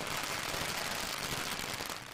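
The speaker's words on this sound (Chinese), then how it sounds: "伴随鞭炮的响声，抬象小伙开始走村串寨。" Firecrackers set off during a village elephant procession near the Nangun River in Yunnan, heard as a loud, dense, continuous crackling burst that lasts the whole stretch without pause.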